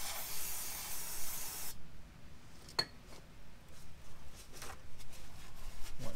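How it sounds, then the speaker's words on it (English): Brake cleaner sprays from an aerosol can during a car oil change, a loud, close hiss for nearly two seconds, followed by faint clinks and handling noises. "Next, brake clean a little bit."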